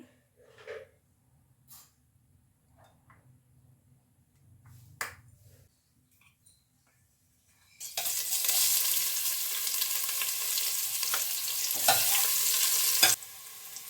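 Cooking oil goes into a pan, and after several seconds of quiet clinks a loud, steady frying sizzle bursts in and keeps going close by, with occasional stirring knocks.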